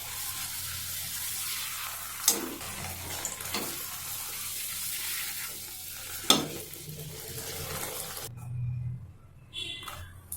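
Wheat-flour golgappa puris fry in hot oil with a steady soft sizzle, broken by a couple of sharp splashes as oil is spooned over them; the sizzle drops away near the end.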